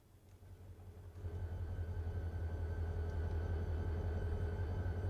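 Freight train locomotive in the Run8 train simulator game, a steady low rumbling drone that swells after the first second and holds loud and continuous with no talk.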